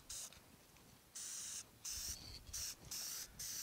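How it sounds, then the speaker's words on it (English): Adhesion promoter is sprayed onto plastic parts from a 1965 Malibu SS in about five short, soft aerosol bursts separated by brief pauses, all faint and close with no talking. "So I'm just gonna spray the adhesion promoter on"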